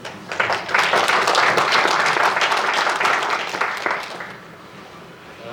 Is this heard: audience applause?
yes